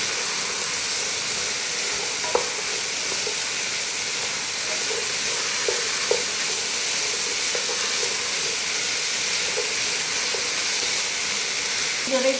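Potatoes and carrots frying in a pan, a steady broad sizzle and hiss throughout with a few faint scrapes and knocks of stirring, fairly even in loudness and without speech.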